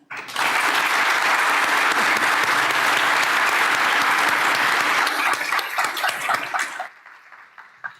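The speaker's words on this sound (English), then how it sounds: "round of applause for the panelists." A warm round of applause from a panel audience, loud and dense clapping that holds steady, thins into scattered claps near the end, then drops to quiet room tone.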